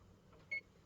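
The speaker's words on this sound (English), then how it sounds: "Set our timer" A kitchen oven timer being set while baking chocolate chip oatmeal cookie bars gives a single short, faint electronic beep in an otherwise quiet kitchen.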